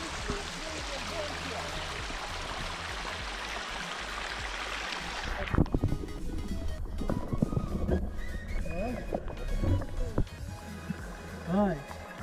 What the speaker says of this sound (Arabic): ميه هابط من الينبوع